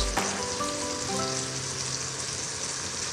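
Fish sarciado sizzles and fries steadily in a pan as fish sauce and ground black pepper go in, a dense continuous crackle with a sharp hiss at the start of the addition, and nobody speaks.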